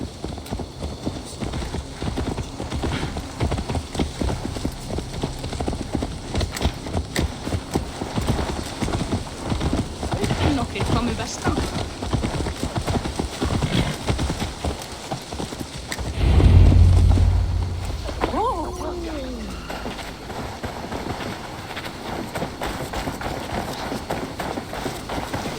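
Horse hooves clip-clop steadily at a trot throughout a stretch of Assassin's Creed Valhalla gameplay, moderately loud over a constant ambient game bed, with a heavier thump partway through.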